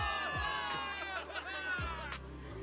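Game crowd in Zenless Zone Zero cheering a victory, a busy wash of cheers and chatter with rising shouts, heard behind louder dialogue and music.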